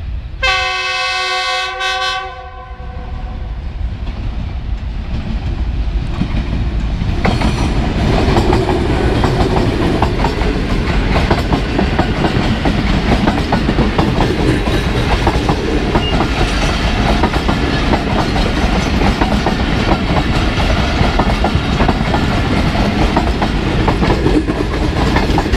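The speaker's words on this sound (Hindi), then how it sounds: "पहली ट्रेन लाहौर से रावलपिंडी" A Pakistan Railway train running from Lahore to Rawalpindi sounds a loud horn blast, then rushes past close by, with steady rumbling and rhythmic wheel clatter that lasts for most of its length.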